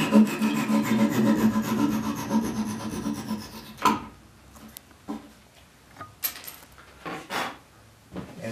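A hand saw cuts through a wooden chair leg tenon at the seat in a rapid rasping rhythm for several seconds, followed by a few scattered knocks and taps of wood, with no speech.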